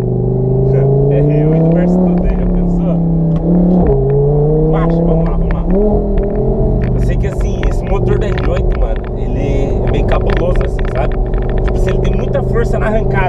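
An Audi R8 accelerates hard in a 0 to 100 run, its engine revving loudly and rising in pitch through several gear changes, with a roaring, close-up sound that stays intense throughout.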